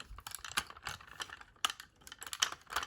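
Plastic clicks and ratcheting snaps from folding the leg of a Time Shadow Megazord toy, a quick run of close, crisp taps and clacks with no talking.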